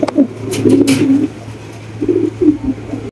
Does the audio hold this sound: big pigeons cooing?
yes